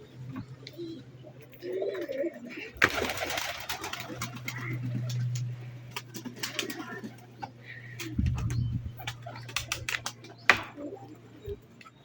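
Pigeons coo near their feed of wheat and rice grain, low throaty burbles recurring through the scene, mixed with rapid pecking taps and clicks and some rustling, fairly close and moderate in level.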